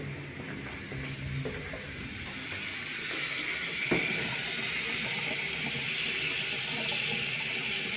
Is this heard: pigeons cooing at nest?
no